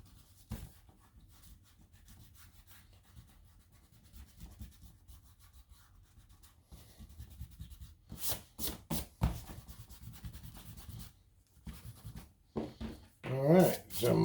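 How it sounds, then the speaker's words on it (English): Pencil lines on paper being rubbed out with an eraser during a bear drawing, heard as soft, steady scrubbing strokes that grow louder and quicker in later bursts, with faint talking under it. "Now I'm going to take one of my erasers."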